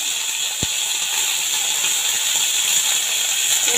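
Curry leaves and fenugreek seeds sizzle in hot oil with a steady, loud hiss that holds throughout, broken early by one sharp pop.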